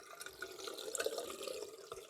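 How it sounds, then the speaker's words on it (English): Water is splashed onto a face from a sink before a wet shave, giving soft, close drips and splashes over a running-water hiss with no voices. "let's put some water in the face"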